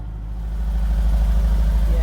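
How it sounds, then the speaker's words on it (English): A Ford ST170 engine on its original exhaust ticks over at a high cold idle, a close, steady low rumble with a slight rhythmic pulse throughout. "It's got a very high idle because it's cold."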